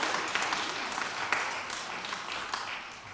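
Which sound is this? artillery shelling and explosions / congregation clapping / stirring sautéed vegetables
congregation clapping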